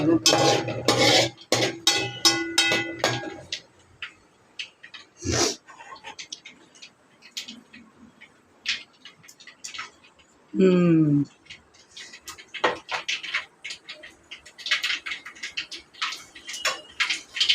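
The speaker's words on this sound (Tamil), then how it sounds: "கடுகு இதெல்லாம் போடுறதெல்லாம் பொரியுது" Mustard seeds sizzle and pop in hot oil in a pan, with clattering pot and utensil sounds and a voice talking over parts of it.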